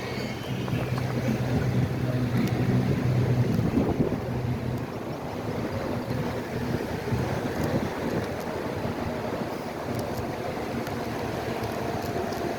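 Onshore wind at Fort Myers Beach rushes steadily across the microphone, a continuous loud blustery roar mixed with the wash of surf and high tide, with no talking.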